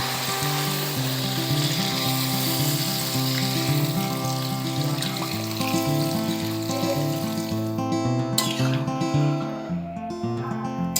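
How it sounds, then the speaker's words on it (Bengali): Water poured into a pan of sizzling chickpea masala, a loud, steady hiss of frying and bubbling close up, with no speech, and a few sharp clinks near the end. "এখন আমি জল দিয়ে দিচ্ছি।"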